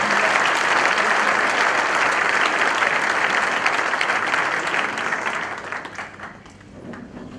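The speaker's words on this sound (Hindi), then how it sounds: "जोरदार तालियों से खुदा के नाम" A church congregation at a Resurrection Day service applauds loudly in a dense, sustained roar of clapping that tapers off toward the end.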